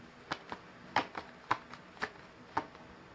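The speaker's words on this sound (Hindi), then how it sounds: "10 कार्ड निकालेंगे गाइस, ठीक है।" Tarot cards drawn from a deck and laid out one by one, giving soft, crisp papery snaps spaced roughly half a second apart in a quiet room.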